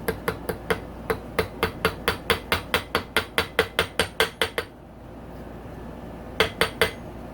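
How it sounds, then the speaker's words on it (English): Steady metallic hammer taps ring out in a quick even rhythm, seating a keyway in a Honda CRF450R motorcycle engine, about twenty strikes, then a pause before three more close taps. "Usually you got to give these some love taps with the hammer."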